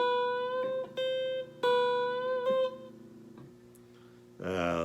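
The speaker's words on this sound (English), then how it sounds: "So bending the B and then hammering on the C." Electric guitar phrase with a string bend and hammer-on, several bright ringing notes in a short sequence fading out, quiet and close, followed by a brief burst of a voice at the end.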